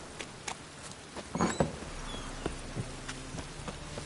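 Light rain patters in The Witcher video game, soft irregular drops tapping a surface with a few louder splats, quiet and close, no speech.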